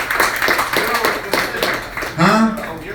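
An audience claps in a quick, rhythmic beat for a few seconds at a talk-show gathering, then a voice rises over the clapping near the end.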